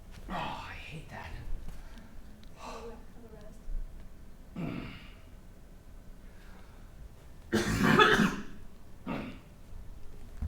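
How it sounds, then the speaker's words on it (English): Several bursts of coughing and throat clearing spread out over the stretch, one loud harsh cough standing out, with breathy gasps between them. "made sure I didn't cough into the mic too much"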